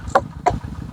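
Two sharp, hollow flicks of a finger against a watermelon rind at a watermelon farm, struck about a third of a second apart, close and clear over a faint low background.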